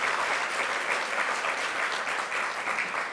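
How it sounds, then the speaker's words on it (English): Applause from a conference audience in an education gathering, a brief, even burst of many people clapping at moderate distance with no speech on top. "Can we get a round of applause for the Advancement Project for putting on the water cooler?"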